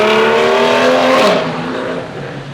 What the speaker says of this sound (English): Someone's Porsche just flew by there, and I think they need to change their muffler.